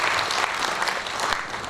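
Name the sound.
audience applause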